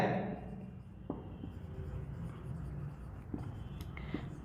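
A pen scratches faintly and steadily on paper while figures are noted during a commerce accounting lesson, with a few soft taps breaking the quiet scribbling.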